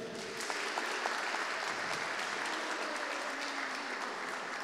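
An audience at a talk on everyday uses of AI claps together in a dense, steady burst of applause that fills the hall evenly throughout, with no speech over it.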